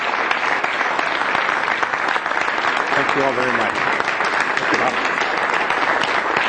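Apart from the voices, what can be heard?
applause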